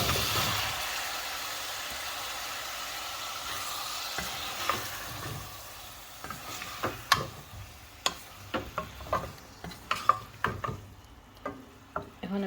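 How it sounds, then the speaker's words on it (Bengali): Cherry tomatoes fry in a pan of spiced tamarind curry for puti fish, a steady soft sizzle underneath as a utensil stirs, scraping and tapping the pan in a string of sharp clicks toward the end. "টমেটোটা ঘুরিয়ে দিলাম"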